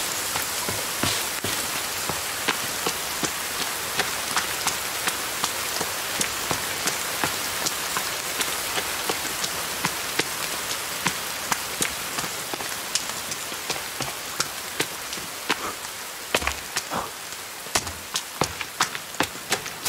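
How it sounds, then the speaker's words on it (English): Rain in The Forest video game, a steady close patter of drops on surfaces with sharper individual taps scattered throughout, continuous for the whole stretch. "Okay, it's raining."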